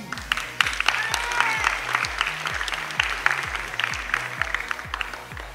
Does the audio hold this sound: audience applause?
yes